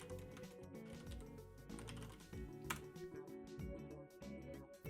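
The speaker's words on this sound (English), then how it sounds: "you're going to be logging in just by typing in login and then your username" Clattering keystrokes tap out a login command and username on a computer keyboard, close and steady but faint, with a low hum running underneath.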